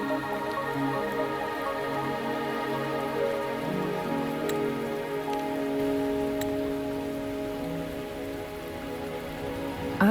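Rain in the video game Wuthering Waves makes a soft, continuous patter at a steady level, with sustained tonal music underneath and no voices.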